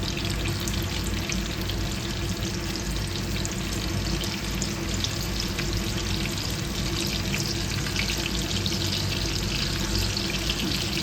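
Water added to a hot frying pan of onions while cooking chicken kebab sets off a loud, continuous sizzle and bubbling that stays steady and close throughout, with no talking.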